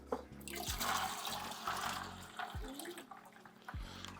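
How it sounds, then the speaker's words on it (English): Aquarium tank water is poured into a small container holding a goldfish, a soft splashing trickle with a few gurgles and drips, fairly quiet and close. "I'm gonna grab some of the tank water. I'm gonna add it into her water."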